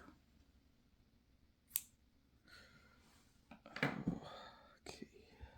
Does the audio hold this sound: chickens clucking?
no